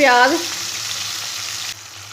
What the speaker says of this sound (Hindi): प्याज और लहसुन को 3 मिनट के लिए भून लेंगे।